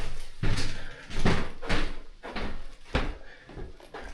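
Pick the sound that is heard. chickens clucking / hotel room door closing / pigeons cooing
hotel room door closing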